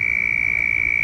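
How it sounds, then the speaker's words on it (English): Frogs hiding in the grass near water on a morning walk keep up a steady, continuous high trilling chorus, loud and unbroken for about a second. "And the frogs start back up."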